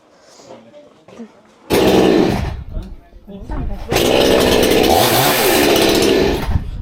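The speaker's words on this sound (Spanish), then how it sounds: "Muy fuerte, están probando la motosierra." A chainsaw is started and tested at an outdoor market in Ploiești, Romania, roaring loud and close in two bursts, a short one and then a longer sustained one, with people talking between and under it.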